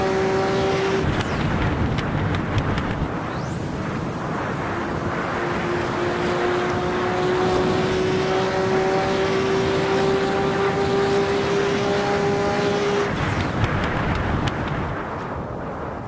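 A Ferrari LaFerrari racing in Assetto Corsa, its engine droning steadily and loudly throughout with tonal lines rising as it accelerates, a continuous near whine with no talk.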